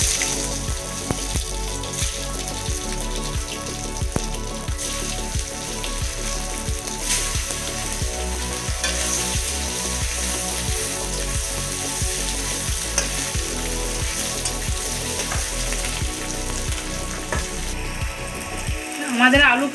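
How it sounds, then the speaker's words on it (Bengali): Cut pieces of boiled potato frying in oil, a continuous loud crackling sizzle close up with periodic stirring scrapes, ending in a brief louder clatter. "সিদ্ধ করা আলুগুলো কেটে নিয়েছি, এবার আমি ভেজে নেব।"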